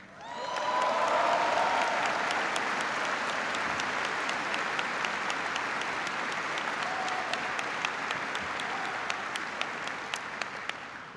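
Sustained applause for a band from a large crowd of troops at Fort Bragg, a dense steady roar of clapping lasting several seconds with scattered louder claps and faint cheers before it gradually tapers.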